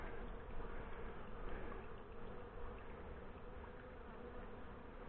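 Honey bees fly around the entrance of a queen-right hive after combining, some landing and going in with pollen; a dense, steady buzzing swarm drone fills the air close by with no voices.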